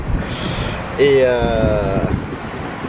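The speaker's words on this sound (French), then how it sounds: "là il y a du vent" Wind buffets a microphone outdoors with a steady low rumble running through the whole stretch, while someone talks over it.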